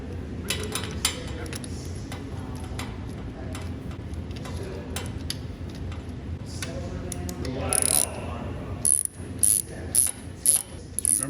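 A ratchet seats the oil filter cover on a BMW Airhead motorcycle engine during an oil change, with rapid clicking pawl ticks close by over steady background noise and a few sharper metallic bursts toward the end.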